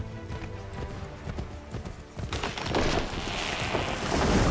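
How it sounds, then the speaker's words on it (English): A horse gallops in Assassin's Creed III Remastered, hooves clip-clopping in a quick steady rhythm before rushing wind noise and louder movement swell over the hoofbeats. "Spur the horse. Let's go faster"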